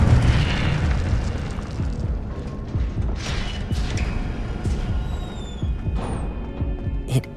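Incendio fire spell cast in the Hogwarts Legacy video game: a steady roaring whoosh of flame with repeated low booming bursts and crackles running through the whole stretch, with brief brighter flares layered over a dense game soundscape.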